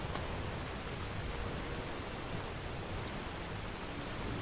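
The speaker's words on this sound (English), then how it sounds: "Guys, it's very rainy." Steady rain in the video game Skyrim on PS4, a dense, even hiss of falling rain that stays constant and fairly quiet throughout, with no voices.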